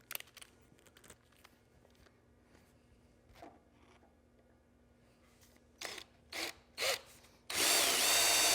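A 3/8 inch Diablo drill bit drilling metal: after quiet handling and a few short bursts of the drill spinning up, it bites in with a loud, sustained grinding whine that continues to the end.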